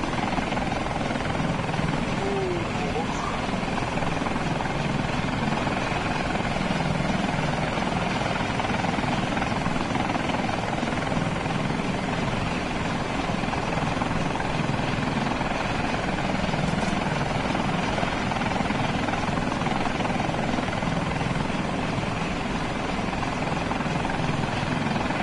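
Super Stallion helicopter in Arma Reforger, a loud continuous rotor and engine roar that stays steady and close for the whole stretch with no talk over it.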